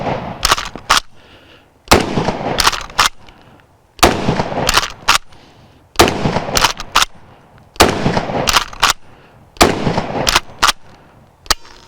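Kel-Tec KSG pump shotgun firing buckshot: six loud, close shots, each with a sharp blast and a quick double crack from racking the pump, spaced about two seconds apart, with no talking.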